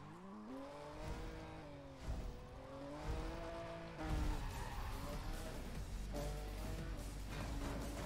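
A Nissan Skyline R34 GT-R Z-Tune in Need for Speed World accelerates hard. Its engine note climbs, drops at each gear shift and climbs again several times, loud and steady, with no talking over it.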